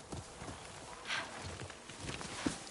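A horse's hooves walk at a steady, unhurried clip-clop pace in the PS5 game Ghost of Yotei, quiet and somewhat distant, with a few sharper hoof strikes.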